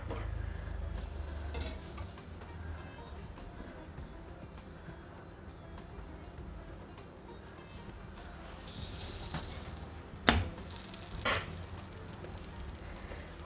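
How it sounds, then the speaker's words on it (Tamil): Bread toasts in a pan on the stove for a bread pudla, a soft low sizzle with light scraping and a couple of sharp clicks near the end. "கொஞ்சம் நேரம் நல்லா அப்படியே டோஸ்ட் பண்ணுங்க."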